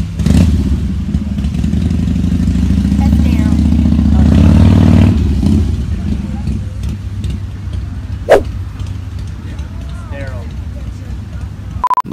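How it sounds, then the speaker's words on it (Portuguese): A motorcycle engine rumbles steadily for several seconds and swells as the bike arrives, then fades under crowd chatter and a few sharp clatters, with people talking throughout. "E dá pra você ver que o Norman, ele chega ali de moto, né?"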